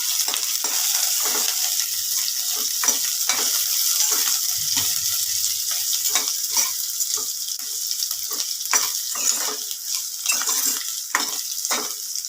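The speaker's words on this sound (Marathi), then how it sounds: "लसण आणि अद्रक छान त्याच्यामध्ये तेलामध्ये फ्राय करून घ्यायचं" Garlic and ginger frying in hot oil on low heat, a dense, steady hiss and crackle throughout, with a spoon scraping and tapping the pan at frequent intervals, close and loud.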